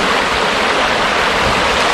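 A cold river flows in a loud, steady, close rush of water that fills the whole stretch with no break and no voices.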